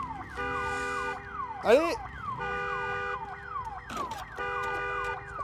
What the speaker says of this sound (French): faut que je coupe l'alarme, non?